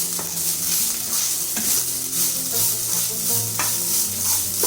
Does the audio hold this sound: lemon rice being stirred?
yes